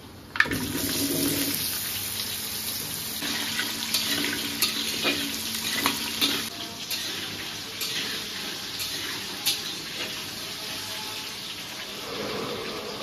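Cut potatoes tossed into hot oil tempered with five-spice and dried red chillies, giving a steady watery sizzle and hiss with scattered clatters near the start, no talking.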